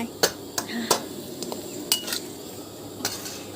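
Squid being stir-fried with holy basil in a pan for pad kaphrao, with scattered sharp metallic clinks and scrapes of a utensil against the pan over a low background hiss, close and moderately loud.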